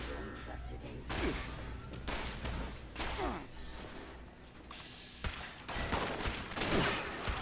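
Shots from the Western Spirit gun in Fallout 76 crack out one after another in sharp bursts, with faint speech in the background.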